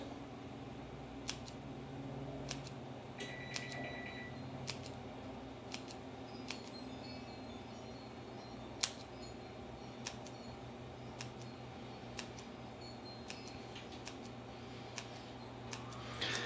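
Scissors snip jalapeno Kaiser bread rolls: quiet, sparse clicks and snips recur every second or so over a steady low hum, faint and close, with no talking.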